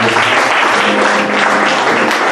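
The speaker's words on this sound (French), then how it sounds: "Je voudrais qu'on acclame le Seigneur pour la vie de l'Institut." A congregation at a Bible institute certification ceremony applauds the Lord, dense loud clapping sustained throughout without pause, filling the hall with no voice rising above it.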